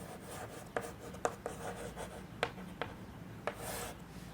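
Chalk or marker scratching out a solution on a classroom board during a primary-school subtraction lesson, a run of short, faint strokes and taps in an irregular rhythm, heard alone without talk.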